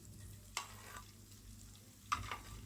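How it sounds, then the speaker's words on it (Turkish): Melted oil with butter is poured over freshly baked homemade baklava, giving two brief, faint sizzling bursts over a quiet background. "şimdi üzerine sıvı yağ ile birlikte kalan yağımı erittim. Üzerine ikinci bir kap yağ döküyorum."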